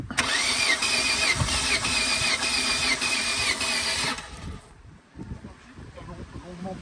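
An engine cranks and catches while starting fluid is sprayed into it, running loud and steady for about four seconds before cutting out, leaving quieter rustling and voices.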